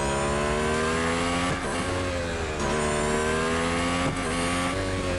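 High-pitched Formula race car engines in the mobile racing game Real Racing 3 whine continuously and loudly, pitch rising and dropping as gears shift, with no talk over them.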